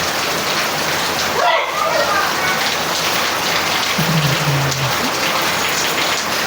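Heavy rain pours down steadily in a dense, loud hiss that fills the scene, with a voice speaking briefly over the downpour near an e-bike.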